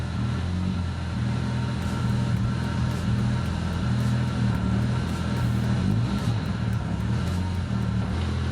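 A 548hp 1J-engined Toyota Cressida pulling away, its engine a steady, close, low rumbling drone that holds an even level throughout with no sharp revs.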